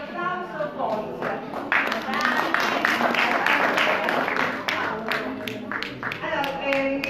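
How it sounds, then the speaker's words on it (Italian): Applause breaks out at the opening of the 22nd nativity scene art and tradition exhibition, steady clapping from a moderate indoor crowd rising and holding for several seconds, with voices mixed in. "Un applauso forte."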